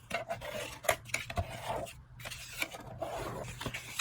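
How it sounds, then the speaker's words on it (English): Scoring a 9 by 5 inch piece of white cardstock every 3 inches for an accordion card, a soft close scraping rub along paper with short repeated strokes and small taps, quiet and with no talking. "I'm scoring every 3 inches so that we'll have an accordion"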